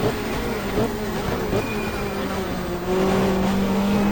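A touring race car in a 1995 Australian Super Touring round at Calder Park under lights, in a racing game: a sustained buzzing engine note rising in pitch, loud and close, without talk.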